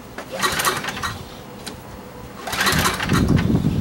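Small gasoline engine with the choke on being pull-started, two bursts of cranking as the cord is yanked, neither catching into a steady run, close and fairly quiet.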